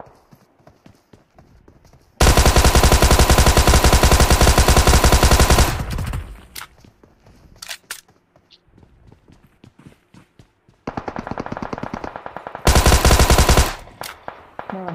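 Gunfire in the mobile game Battlegrounds Mobile India: a long sustained automatic burst lasting several seconds, then scattered single shots and two more rapid bursts, loud and close.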